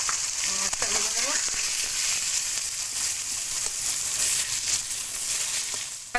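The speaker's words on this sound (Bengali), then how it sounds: "মাছটা ভেজে নেব।" Koi fish fries in hot oil in a wok with a loud, steady sizzle and scattered pops, fading slightly toward the end.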